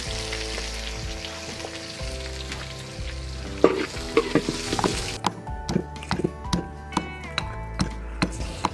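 Curry leaves and onion frying in oil for a Kerala-style beef curry: a loud, close sizzle that thins out halfway, followed by regular spatula taps and scrapes against the pan.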